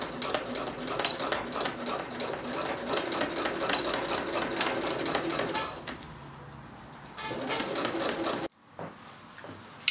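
Sewing machine back tacking a trouser fly seam: a fast, steady needle rattle running for several seconds, pausing briefly, restarting, then stopping abruptly, close and fairly loud with no talk.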